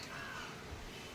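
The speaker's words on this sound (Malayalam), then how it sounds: "ഇവിടെ മൊത്തം കിളികളുടെ ഒച്ച കേൾക്കാം" A crow caws faintly in the distance, a short single call over a soft outdoor background.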